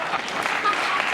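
A studio audience at a late-night television talk show applauds in a dense, steady burst of clapping, close and loud, with a voice speaking over it.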